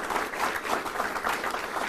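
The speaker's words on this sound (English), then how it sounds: "Let's give them a round of applause as well." A round of applause at an airport transformation project announcement, steady dense clapping from an audience, moderately quiet and even throughout the short stretch.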